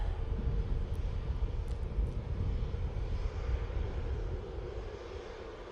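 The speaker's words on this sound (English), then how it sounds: "So we've got this little 319 taxiing down." An Airbus A319 airliner taxiing at Manchester Airport gives a steady, moderately distant jet engine rumble with a broadband roar that fades slightly toward the end.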